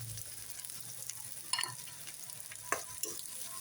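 Chopped onion and garlic fry quietly in oil, a soft steady sizzle with a few spoon scrapes and clicks against the pan.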